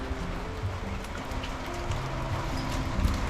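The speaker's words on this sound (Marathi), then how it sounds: "मस्त पाऊस पडतो" Big drops of heavy unseasonal rain and hail pound a house in a close, continuous, even patter with faint irregular knocks throughout.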